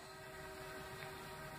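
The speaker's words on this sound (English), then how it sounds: "I hear a train." A train passing near a house, a steady low rumble with a faint horn-like tone, distant and continuous, quiet under background noise.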